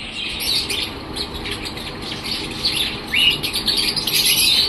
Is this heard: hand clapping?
no